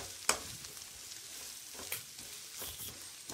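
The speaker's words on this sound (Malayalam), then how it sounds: "സബോളയും പച്ചമുളകും ഒക്കെ നന്നായിട്ടൊന്ന് വഴണ്ട് വരുന്ന വരെ നമുക്കിത് ലോ ഫ്ലെയിമിൽ വെച്ചൊന്ന് ഇളക്കി കൊടുക്കാം" Chopped onions and green chillies sautéing in a pan over a low flame, a soft steady sizzle with occasional scrapes and taps as they are stirred.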